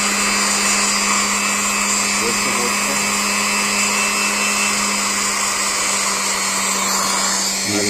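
A universal AC series motor running at high speed on 250 volts, a loud, steady, high-pitched whine with a constant tone and no letup.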